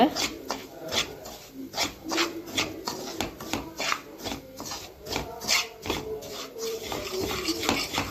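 A spoon scrapes and rubs through roasted semolina in a pan while it is stirred for beetroot rava laddu. The scraping strokes come close and rhythmic, and a voice talks over them.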